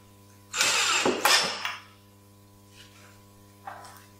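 A power drill driving small drywall screws into a pocket hole jig, one loud close whirring burst of about a second with a brief dip, then faint clicks and a short soft whir over a steady mains hum.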